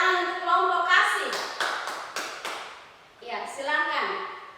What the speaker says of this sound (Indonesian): tepuk tangan untuk kelompok kasih